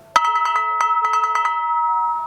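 Orchestral brake drum played with rubber mallets, a run of rapid metallic strikes in two quick clusters with a ringing tail, softer-edged and close with no speech.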